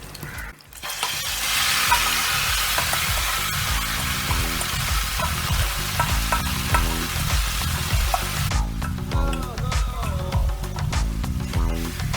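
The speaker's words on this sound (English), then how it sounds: "now we throw in the mashed aubergine into it" Mashed aubergine dropped into hot spiced oil sets off a loud, crackling sizzle that holds steady, broken by stirring scrapes and clatters. The hiss thins out toward the end.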